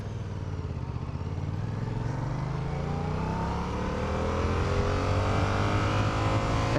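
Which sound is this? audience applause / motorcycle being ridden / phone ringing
motorcycle being ridden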